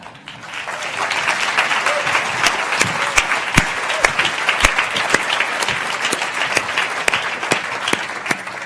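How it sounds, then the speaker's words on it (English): An audience at a live science-communication competition final applauds steadily and loudly with dense, sustained clapping throughout, a few sharper individual claps standing out; no speech is heard. "Always a clever trick to work applauding into your routine in case nobody wants to clap."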